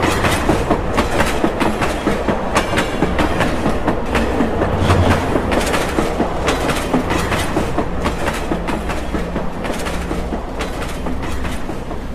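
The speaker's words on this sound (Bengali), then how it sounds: "ট্রেন রাইট টাইমে শিয়ালদা ছাড়ল।" A train runs on tracks as a sound effect in a Bengali audio story, the Darjeeling Mail leaving Sealdah at night, a loud continuous rumble with rhythmic clickety-clack of wheels throughout, no talk.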